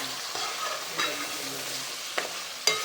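Curry masala cooks in a pan and gets stirred: a soft, steady sizzle broken by a few sharp spoon scrapes and clacks against the pan, fairly quiet and without talk.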